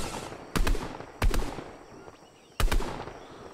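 Three sharp gunshots from Fortnite, evenly spaced and loud, each with a short echoing tail over a low game background.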